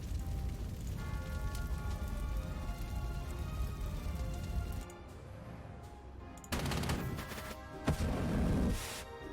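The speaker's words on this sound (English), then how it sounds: "Bombardment!" Artillery bombardment in Panzer Corps 2, a sustained rumbling barrage of shell fire that drops away midway, then returns as sharp, close crackling impacts and bursts.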